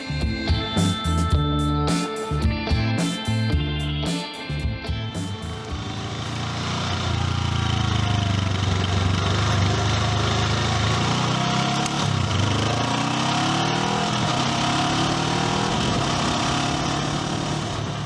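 A Honda CL500 motorcycle engine runs nearby with a steady, deep, burbling note, starting with choppy pulses before settling into a continuous loud drone that holds for the rest of the stretch.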